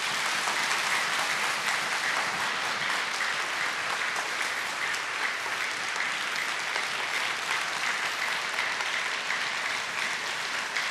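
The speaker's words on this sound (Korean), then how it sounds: "우리 축복하며 격려하며 우리 뜨거운 박수로 한번 환영합시다" A church congregation gives a warm, sustained round of applause welcoming a visiting pastor, many hands clapping in a dense, steady roar that holds evenly for the whole stretch with no talk over it.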